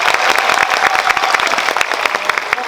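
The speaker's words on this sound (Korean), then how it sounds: "박수 한번 칠까요?" A cinema audience claps steadily for a live guest appearance after a film screening at CGV Yeongdeungpo, dense sustained applause filling the room with no break.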